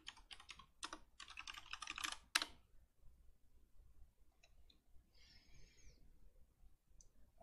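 Quick bursts of keystrokes on a computer keyboard, close and fairly loud, fill the first two and a half seconds, followed by quieter scattered clicks and a faint chirp in a calm room.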